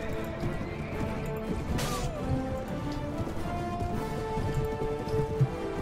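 Horses in a medieval battle in the video game Mount & Blade Warband, with hooves and a whinny over steady rain-like battle noise and a faint voice.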